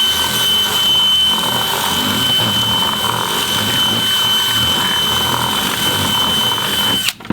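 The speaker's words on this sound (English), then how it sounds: "So we gotta ream this out a little bit." A power tool reams out a hole in a plastic part for a chicken feeder and waterer, a loud, steady high-pitched drill whine held at close range, stopping abruptly at the end.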